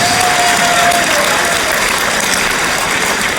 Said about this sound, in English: let's give him a very loud round of applause